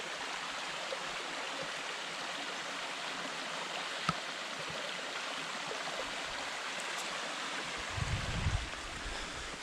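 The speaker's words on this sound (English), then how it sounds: "a little nice spot right here to pause and listen to the sounds of the creek" A forest creek on the Veach Gap trail in Virginia flows in a steady, even rush of water, close and continuous, with a single sharp tap partway through and a brief low thump near the end.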